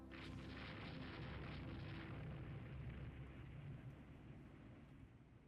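Naval gunfire from warships in the video game Rule the Waves 3, a continuous rumbling barrage of heavy booms blending into a sustained roar that slowly fades, with no talking.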